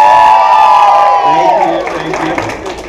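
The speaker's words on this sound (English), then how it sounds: "Let's give a round of applause for Lura today." Wedding guests clap and cheer loudly as a crowd, a dense wash of applause with whoops that fades slightly toward the end.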